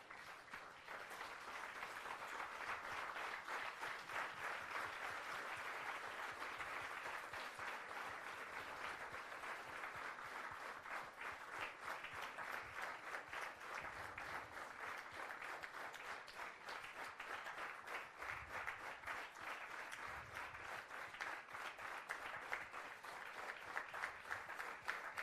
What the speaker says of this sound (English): I request the audience to stand and welcome our dignitaries with a round of applause.